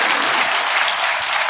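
Sustained applause from a church congregation during a Sunday worship service, a dense, steady wash of clapping filling the room throughout with no voices over it.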